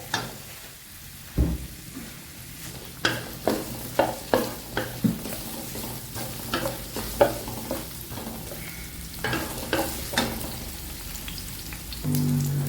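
Garlic sizzles in a hot pan, a steady frying hiss broken by a series of sharp clacks and scrapes as it is stirred, close and fairly loud with no talking.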